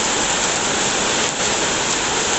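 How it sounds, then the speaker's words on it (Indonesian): Heavy rain pours down in a strong wind, a dense, loud and unbroken hiss of falling water with no voices. "aku sekarang lagi mantau hujan"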